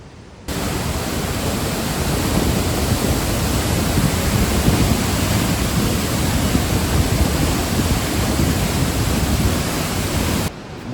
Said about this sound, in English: Like the power of the fountain in there, the waterfall, phenomenal.